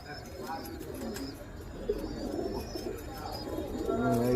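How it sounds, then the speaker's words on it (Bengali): Pigeons of assorted breeds coo softly among the flock, with some chirping birds and background chatter; the low cooing grows a little fuller toward the end. "এসে নতুন পায়রা এসছে"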